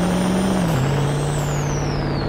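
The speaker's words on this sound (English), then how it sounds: "Do you guys hear that turbo?" A Ford Excursion SUV with a 6.0 diesel engine spools its turbo with a loud, steady high-pitched whistle that slowly falls in pitch, carried over a constant engine drone that dips slightly partway through.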